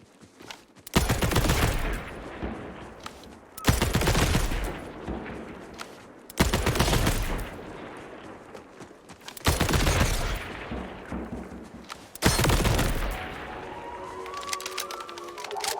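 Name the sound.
gunfire shooting barrels in the video game Borderlands 4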